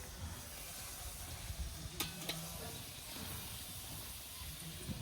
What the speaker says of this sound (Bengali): ভাজা শুরু হয়ে গেছে দেখুন না পুরো একদম খোড়া ভর্তি